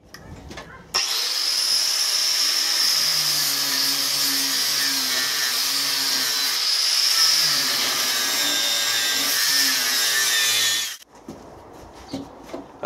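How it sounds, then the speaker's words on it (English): Carbide burr in a die grinder cutting cast iron, a loud sustained high-pitched whine with grinding rasp that starts abruptly, holds for about ten seconds with shifting pitch, then stops. "Carbide burner die grinder. This should really shift cast iron."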